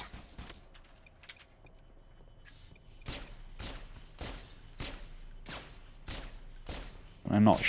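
Bursts of gunfire from Halo 3: ODST, heard as a string of sharp, evenly spaced shots across the second half, after quieter game ambience. A heavier blast closes the clip.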